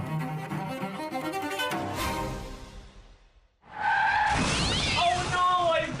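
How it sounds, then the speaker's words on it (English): A car skidding sound effect: tires squeal under music, then after a brief drop to near silence comes a harsh burst of crash noise and screeching, loud and close. "Oh no, I've been in a car accident."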